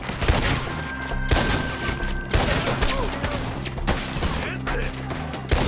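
Rapid, dense gunfire from a Red Dead Redemption 2 shootout against enemies up in the trees, with many overlapping shots and bursts cracking out continuously and loudly over a steady low background.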